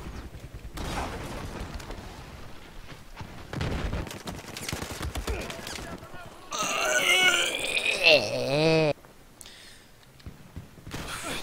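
Rapid bursts of gunfire and chaotic combat noise from the Battlefield 4 video game, dense and loud in the later middle, with players talking over it throughout.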